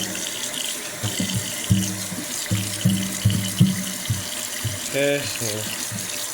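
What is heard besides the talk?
tap water running while washing hands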